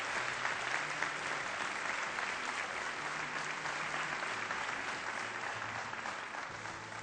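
Hall audience applauding to welcome the FON University rector at a knowledge-competition final, a broad, even wash of many hands clapping that continues for several seconds with a faint voice underneath.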